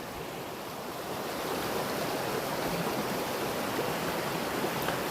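A mountain stream on Mt. Baldy rushes with a steady broadband hiss of flowing water that swells slightly after the first second and stays constant and close, with no voices.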